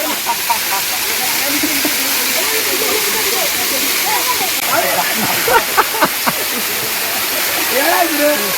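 Steady rushing of a waterfall running low after little rain fills the background as people talk over it nearby.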